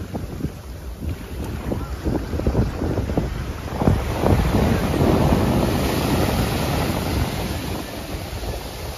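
Ocean waves roll onto Anjuna beach in Goa under strong wind. The surf washes in a steady, broad roar, and gusts buffet the microphone throughout, with no voices.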